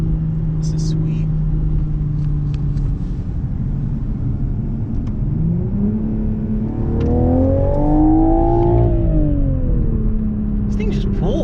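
A 2021 Toyota Supra with an automatic gearbox accelerates hard from inside the cabin, its engine drone rising and falling in pitch through a gear change while people talk over it.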